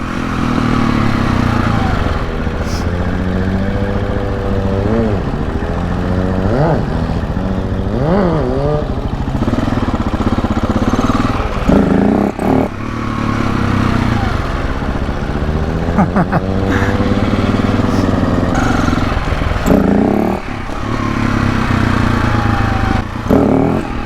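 A freshly rebuilt Kawasaki 636 stunt motorcycle running close by, idling with a rough throb while the revs repeatedly swell and fall in smooth sweeps, broken by a few sharp throttle blips.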